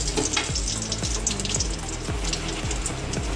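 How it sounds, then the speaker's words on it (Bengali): Bay leaf, cloves, cinnamon and cardamom hit hot oil for a Bengali cauliflower and potato curry, giving a steady, loud, close crackling sizzle with faint stirring clinks. "তো এবার ফোড়ন দিচ্ছে তেজপাতা, লবঙ্গ, দারচিনি, এলাচ দিয়ে দিল ফোড়নে।"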